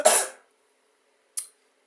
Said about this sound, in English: That was, I think, the first cough in this video